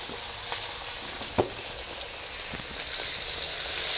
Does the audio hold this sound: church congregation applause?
no